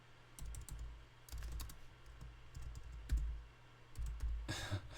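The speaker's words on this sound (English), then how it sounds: "Forgive my typing." Close, soft keyboard typing in uneven clusters of clicks with short gaps, ending with a sharper noisy burst near the end, and nobody speaking.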